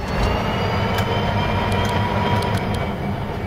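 Train running in the Rolling Line model railway game, a steady loud rolling rumble of wheels on track with faint metallic clicks, continuous and close, with no voices.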